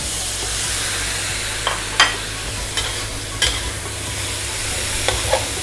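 Mango stir-fried with holy basil in a hot pan gives a loud, continuous sizzle and hiss, broken by several sharp scraping clacks of a utensil against the pan.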